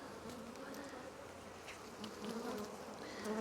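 Bees at open hive 6 hum in a steady, dense drone that carries no speech, with a few individual insects buzzing louder as they pass near.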